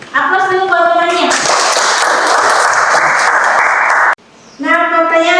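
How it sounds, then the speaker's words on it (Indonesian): Classroom applause for a classmate: a burst of many hands clapping steadily for about four seconds, loud and dense, with children's voices chattering before and just after. "Aplaus dulu buat temannya."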